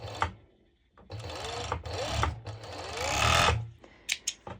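Serger stitching the ends of a lycra band together in short bursts of fast mechanical whirring, close up, with pauses and small clicks between runs.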